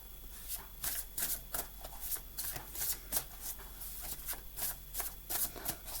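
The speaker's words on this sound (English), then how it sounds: "One more shuffle" A tarot card deck being shuffled by hand, with repeated crisp riffling bursts in an even rhythm, close and clear, with no talking.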